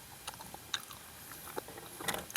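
Chewing of tough, chewy food with a rubbery skin during a fishing trip meal, soft close-up bites and crunchy mouth sounds scattered irregularly, faint and alone.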